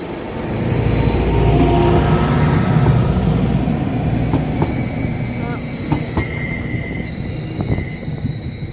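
A train rolls past at a North Norfolk railway gala, a loud sustained rumble with wheel clatter and rail clicks that swells early and then slowly fades as the carriages go by.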